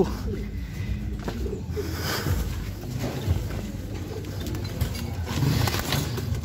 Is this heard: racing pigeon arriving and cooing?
yes